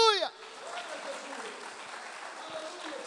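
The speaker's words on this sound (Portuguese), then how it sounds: "As palmas só para Ele." A church congregation bursts into sustained applause, a dense steady wash of many hands clapping that continues throughout, with a voice briefly audible at the very start.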